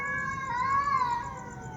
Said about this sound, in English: these cats are crying.